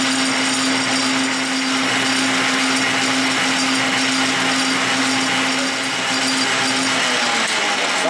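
A metal lathe with a carbide finishing insert cuts steadily, giving a loud, close, continuous grinding whir with a sustained tonal hum that holds unchanged for several seconds.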